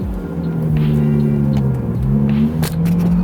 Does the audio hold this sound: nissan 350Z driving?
yes